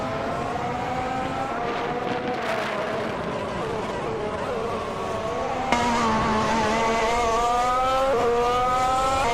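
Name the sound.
race cars racing in a racing video game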